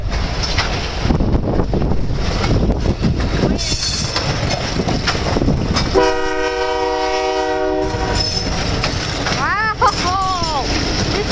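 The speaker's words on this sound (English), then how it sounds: "That was one long train with that pretty cool horn." A long CN freight train rumbles past loudly with wind buffeting, then a long, multi-tone horn blasts for about two seconds; a voice exclaims briefly afterward.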